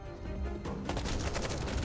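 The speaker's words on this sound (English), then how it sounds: "Gunfire and explosions tear through the air, screams ripping from every corner." Gunfire in a firefight from the video game Nikke, a dense barrage of rapid shots that builds into a steady rattling fusillade. It sounds loud and continuous, with no voices.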